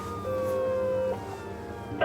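Police sirens wail at a moderate distance, approaching, their tone sliding and holding, with traffic noise in the background.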